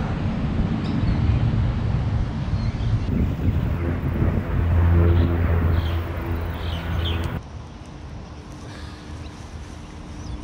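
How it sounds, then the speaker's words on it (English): Strong, stiff wind buffets the microphone beside a canal during a fishing outing, a steady loud roar of rumbling noise that eases slightly in the last few seconds. "This wind is so stiff."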